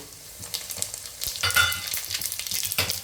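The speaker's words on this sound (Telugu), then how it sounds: "అదే ఆయిల్లో మనం ఇప్పుడు చికెన్ ఫ్రై చేసుకోవాలండి" Chicken with biryani masala stirred and frying in reused oil in a pan, a steady close sizzle with scraping stir strokes and bursts of crackle throughout, no talking.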